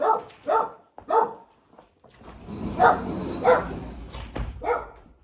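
A dog barks repeatedly, a quick run of barks followed by more spaced barks, close and loud over a noisy background.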